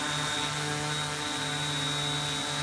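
An MP680Q drone flies with a steady, loud, buzzing whine of spinning propellers that holds unbroken throughout, with no talk.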